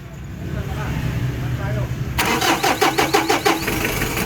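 A Mitsubishi Adventure with a 4D56 diesel engine cranks briefly and then catches, settling into a loud, clattering idle with a steady knocking rhythm close by. A voice is heard near the start.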